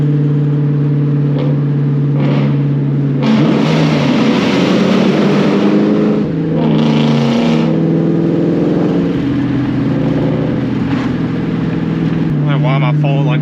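A loud Ford Mustang S550 engine accelerating hard, chased by a New Edge Mustang GT on the road, with a deep droning exhaust note that shifts pitch through gear changes. It stays strong and close throughout, with a voice speaking over it.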